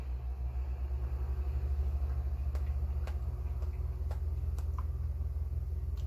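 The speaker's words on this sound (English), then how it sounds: "I can hear all the tractors going out there." A low, heavy rumble of tractors drones steadily in the distance outside, with a few faint clicks and taps nearby.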